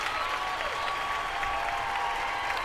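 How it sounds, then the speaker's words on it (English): A small podcast studio audience claps for a guest, a steady, moderately faint patter of applause throughout with a voice faintly underneath. "Yeah, clap it up for him."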